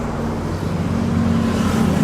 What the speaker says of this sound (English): Aftermarket exhaust.